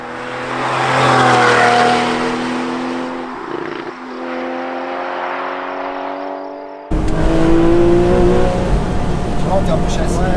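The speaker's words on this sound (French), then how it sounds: "Il y a quand même le son du moteur est très présent." A Porsche 991.1 Carrera 4S Cabriolet engine hums loudly with a steady harmonic drone, dips briefly, then surges louder as it revs up, with French talking over it.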